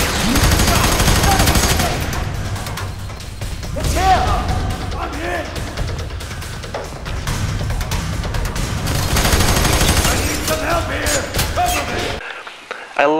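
Gunfire in the first-person shooter F.E.A.R. 3, a dense, loud mix of bursts, thuds and crashes layered with game music throughout, briefly cutting out near the end.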